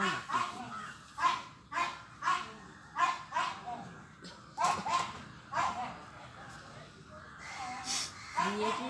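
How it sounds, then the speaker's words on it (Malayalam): A dog at a home garden barks repeatedly in short, evenly spaced bursts, moderately close and fairly loud, with faint background noise between barks. "ഇവിടെ ഒരു പട്ടിയുടെ ശല്യമുണ്ട് കേട്ടോ"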